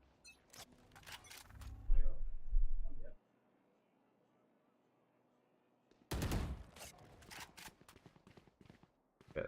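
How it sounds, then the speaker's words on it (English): Gunfire inside a building during a competitive Valorant match: a cluster of sharp shots and a heavier burst, then silence, then another loud volley followed by scattered shots and footsteps. "Yeah, shots fired inside."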